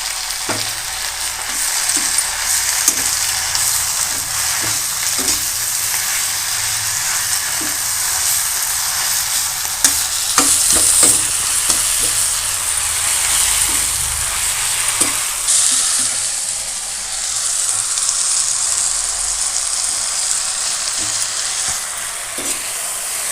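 Sour gongura greens sizzle and steam in a hot pan while being stirred, with a steady frying hiss and repeated soft scraping strokes, close and continuous without talk.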